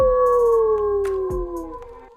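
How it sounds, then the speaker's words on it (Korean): A wolf lets out a single long, loud howl that slides slowly downward in pitch and fades near the end, close and clear with no talking. "늑대가 소름이 끼치도록 무섭게 울부짖었어요."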